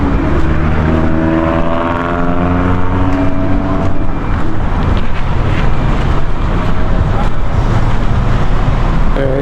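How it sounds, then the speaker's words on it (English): Road traffic moving through a closed-road detour section near the Bogue Overpass in Montego Bay: continuous loud engine rumble and road roar, with a vehicle passing close by early on, no talking. "See vehicles going at this end, and the road here is closed."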